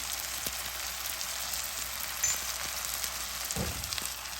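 Dry spices sizzle with green chillies and okra in a hot karahi, a steady faint crackle with a brief louder thump and stir near the end.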